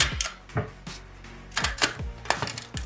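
A blade cuts through the stacked double spider of a burnt subwoofer during a teardown, making irregular sharp snaps and crackles up close, with quiet gaps between them.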